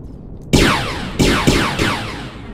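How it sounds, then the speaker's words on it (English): Four sharp electronic zaps from laser gun cannons in Empyrion Galactic Survival (Reforged Eden) fire in quick succession, each a bright sweeping blast that trails off, loud and close. "Let's see if the laser gun cannons work better."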